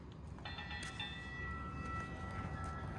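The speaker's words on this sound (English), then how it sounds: "Oh wait, there's the Gresham train coming at the exact same time." A light rail train approaches Beaverton Transit Center with a low rumble and a steady high-pitched electric whine, fairly faint and somewhat distant.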